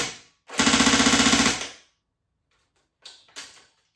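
A Tokyo Marui AUG A1 airsoft electric gun downgraded to 0.5 joule fires a full-auto burst with no BBs loaded, a rapid mechanical rattle lasting about a second, followed by a few quieter clicks and handling noises.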